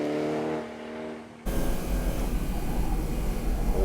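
A car engine on a Japanese mountain pass time attack run, a steady tonal drone that cuts abruptly at mid-clip into a louder, rougher and closer roar holding to the end.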